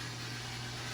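A household refrigerator hums steadily in a quiet room, a constant low drone with faint broadband hiss running unchanged throughout, no talking over it.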